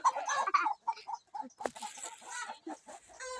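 Chickens cluck close by, a busy run of short clucks and chirps in uneven bursts, with a sharp knock partway through.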